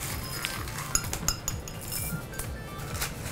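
A spoon scooping frozen liquid-nitrogen Dippin' Dots ice cream beads, giving repeated light clinks and taps against a dish, soft and close, scattered over a few seconds.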